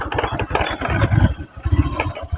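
Motorcycle engine running close by, a rough, uneven mid-pitched chug with stuttering pulses as the bike struggles to keep going, brief and alone.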